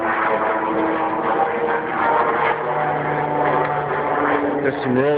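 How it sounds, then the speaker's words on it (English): Propeller airplane passing overhead at a national cemetery, a steady broad engine drone with a faint rising and falling tone, fairly loud and continuous throughout. "sorry for the plane here."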